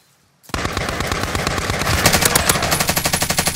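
Automatic gunfire in the video game Call of Duty Warzone Resurgence starts abruptly after brief silence and becomes a loud, rapid, steady burst of shots that continues to the end.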